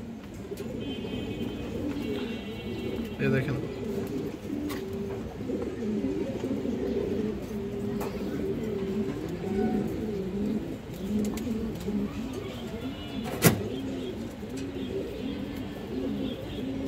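Pigeons, including a hen bird, coo steadily and close by in a rolling, overlapping chorus, with brief chirps and a sharp click near the end; someone speaks briefly in Bengali.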